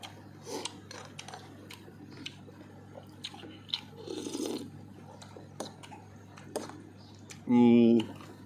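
Close crunchy chewing of crispy pork, with repeated crisp bites and munching, then a brief voiced hum near the end.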